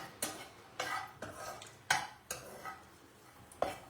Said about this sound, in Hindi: अब हमारी बारी है किशमिश को डालने की।